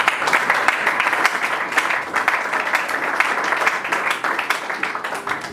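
A church congregation applauding, steady dense clapping that stays loud and close throughout, with a few faint voices mixed in.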